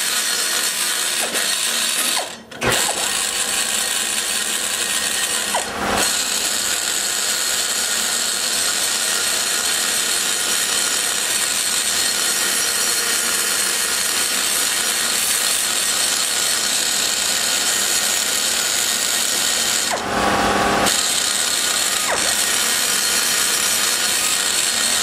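A rotary tool with a large butcher hog burr grinds metal while modifying the combustion chambers of a ProComp Stage IV cylinder head: a loud, continuous, close high whine with brief breaks near the start and again later.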